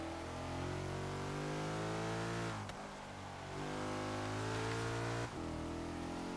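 A small Porsche in Forza Horizon 3 revs its engine in a loud, steady drone that climbs in pitch, dips sharply during two gear changes, then builds again, with no voices over it.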